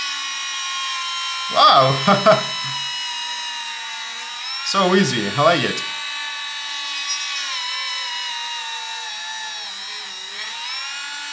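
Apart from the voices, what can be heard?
Parkside PMGS 12 D4 engraving device drilling wood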